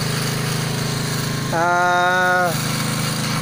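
Small engine running beside a freshly dug well pump on a beach, a steady droning rumble throughout, briefly rising in pitch and revving harder for about a second before settling back to its even idle.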